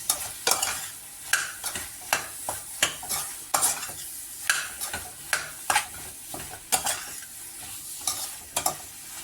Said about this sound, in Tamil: நறுக்கி வச்சுட்ட காளானை சேர்த்து நல்லா மிக்ஸ் பண்ணி விட்டுக்கலாம்.